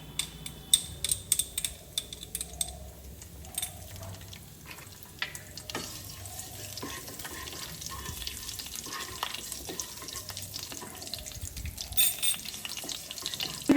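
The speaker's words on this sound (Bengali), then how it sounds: "প্রথমে কালো জিরে আমি ফোড়নে দেবো বেশ খানিকটা" Black cumin seeds sizzle in hot mustard oil in a wok, a soft crackling fry with scattered pops and light clinks, low and steady without talk.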